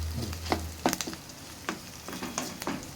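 Whole spices and a bay leaf fry in oil with a soft sizzle, and scattered clinks and scrapes of stirring break in irregularly over a low background.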